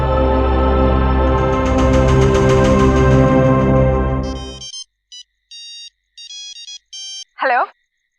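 A phone ringtone plays an incoming-call melody, loud and close, which cuts off and is followed by a few short electronic beeps and a brief chirp.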